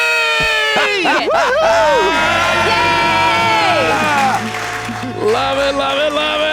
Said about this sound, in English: Let's hear your debt-free scream.